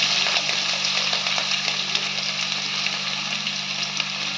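Sliced onions and green chillies with fennel seeds fry in hot oil, giving a dense, continuous crackling sizzle close by with small popping bursts throughout and a faint low hum beneath.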